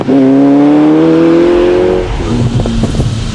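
A TVR Cerberus engine revs loudly close by, the pitch climbing steadily under acceleration before easing off into a rougher, pulsing idle-like rumble.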